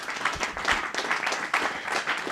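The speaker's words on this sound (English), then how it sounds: "can we give Fred a big round of applause?" A small group claps and applauds at the end of a conference talk, the claps uneven and moderately loud, rising and dipping over a couple of seconds.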